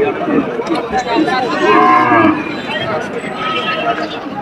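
Local cows at the Dhara cattle market give a loud, close, drawn-out moo, with shorter lowing before and after. Crowd chatter and voices murmur underneath.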